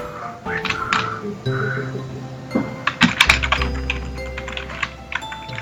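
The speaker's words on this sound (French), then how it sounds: "si vous entendez un petit peu nos claviers" Computer keyboards clatter in bursts of quick keystrokes, some taps sharper and louder near the end, over soft game music and a low background hum.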